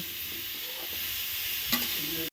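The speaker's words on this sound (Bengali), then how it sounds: "কড়াইটা গরম হয়ে গেছে, মুগ ডালটা আমি এখন দিয়ে দিব, এটাকে আমি ভেজে নিব।" Mung dal frying in a hot wok, a loud continuous dry sizzle with light stirring scrapes and a short clink near the end before it cuts off.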